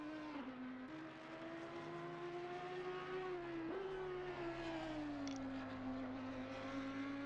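An Audi GT3 race car engine in a racing game at the Kyalami circuit, a steady, loud, high whine that holds its pitch, dips and climbs a little through gear changes, alone and close.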